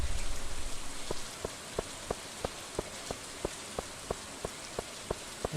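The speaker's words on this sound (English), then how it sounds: "maybe this is a less intensive rain" Rain in Stardew Valley, a soft steady patter of raindrops with a faint, regular ticking pulse about three times a second, quiet and without talk.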